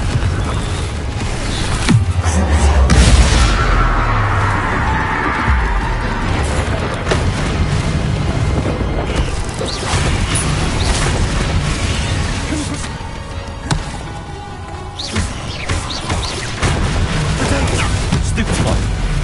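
Confringo blasting spells in the video game Hogwarts Legacy explode again and again as booming, crackling blasts that are loud and close, mixed with game sound and talk.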